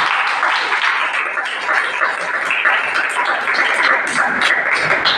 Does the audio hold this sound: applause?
yes